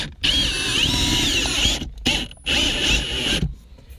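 Power drill whirring in short bursts during a Chevrolet Camaro convertible windshield replacement, its high motor whine starting and stopping three times with brief gaps, close and fairly loud.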